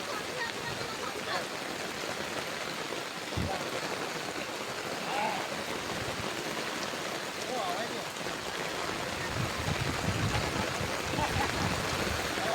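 Floodwater rushes across a road after heavy rain, a loud, continuous, broadband wash of flowing water heard close up, with voices faintly present underneath.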